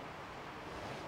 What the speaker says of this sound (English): Wind's picked up here as well